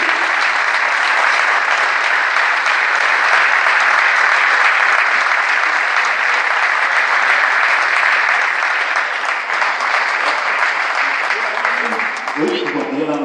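A crowd at a sailing awards ceremony for the Défi Atlantique claps for the crew of Aïna Enfance Avenir, loud continuous applause that carries on throughout, with a few voices emerging near the end.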